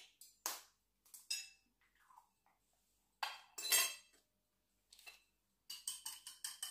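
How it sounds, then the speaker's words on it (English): An egg being cracked for the glaze on a Nigerian meat pie: a few sharp, quiet taps and clinks against a dish, spaced apart by silence, with no voices. "So I'm just going to break an egg now and rub it on top of the meat pie."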